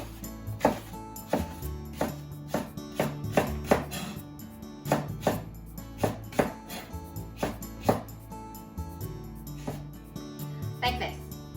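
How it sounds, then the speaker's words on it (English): Knife slicing a Japanese leek diagonally on a cutting board for sukiyaki, a series of crisp, close chopping knocks at an uneven steady pace, roughly one or two per second, with light board and kitchen clatter. "Japanese leek. You just need to cut it diagonally."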